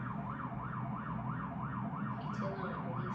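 A police car siren wails in a steady rising-and-falling cycle, loud and sustained throughout, with a brief higher chirp near the end.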